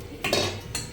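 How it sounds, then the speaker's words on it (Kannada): Rice being stirred in a pot on a home kitchen stove, heard as a few metallic scrapes and knocks of a utensil against the pot over roughly one second, with no talking. "ತಿರುಗಿಸ್ತೇನೆ ರೈಸ್."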